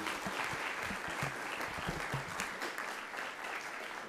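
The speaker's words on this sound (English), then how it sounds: "please give them a round of applause, yourselves a round of applause" An audience at an elections and constitutional amendments committee hearing gives a round of applause for the panelists: dense, steady clapping from many hands fills the room, easing off slightly toward the end.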